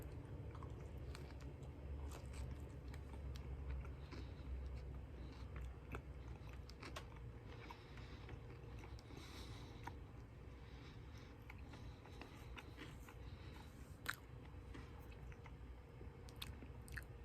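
Someone bites and chews a slice of homemade mac and cheese pizza topped with crushed Flamin' Hot Cheetos crunchies and puffs, with soft crunchy chewing sounds steady and close throughout, no talking.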